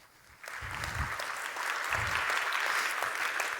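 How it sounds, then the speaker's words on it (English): A conference audience bursts into applause to welcome a speaker on stage, a sustained round of clapping that swells in after a quiet start, with a few low voices rumbling beneath it. "give a round of applause for Mike Allen"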